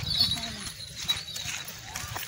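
A Sindhi breed horse with a kummait coat, standing 58 inches, moves on a dairy farm. Its hooves give soft, fairly close clip-clop beats over a muffled, noisy outdoor background.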